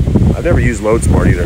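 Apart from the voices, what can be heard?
wind blowing into microphone outdoors in backyard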